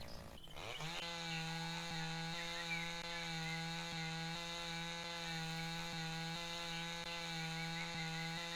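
A chainsaw cutting trees in the video game Lumberjack Dynasty, starting after a brief knock and then running as a steady, loud, droning whine with a faint periodic pulse, heard alone.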